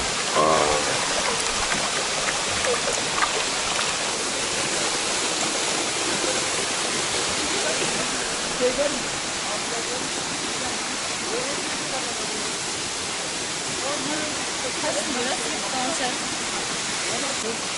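A waterfall near Sinop, Turkey, roars as a steady, dense rush of falling water that stays close and loud without a break for the whole stretch.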